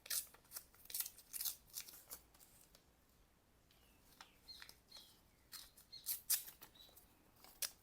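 Close, quiet snips of scissors cutting small pieces of kraft paper come in repeated bursts, with a calmer pause in the middle.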